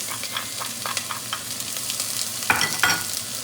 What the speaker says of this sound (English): a good tablespoon and a half of olive oil so that I can saute the onions and garlic